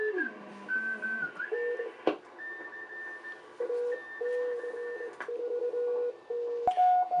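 Morse code CQ call received on a Hammarlund HQ-170 ham radio receiver, a steady run of clean keyed tones in dots and dashes shifting between two pitches, with a few sharp clicks and light static behind.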